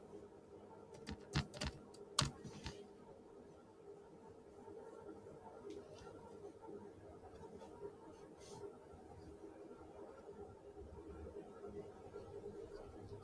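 A few quick keystrokes on a computer keyboard while entering a command, a short cluster of soft clicks near the start, then a faint steady background hum for the rest.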